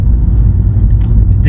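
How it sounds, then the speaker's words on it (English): A cheap salvage VW R-Line's engine runs steadily in a low, continuous rumble, heard close and loud throughout with a brief higher rustle near the end. "the engine sounds sweet"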